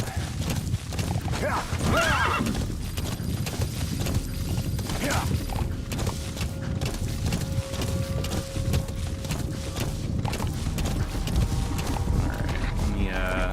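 Steady clip-clop of horse hooves at a trot, with a horse whinnying, amid continuous game ambience in Metal Gear Solid V: The Phantom Pain.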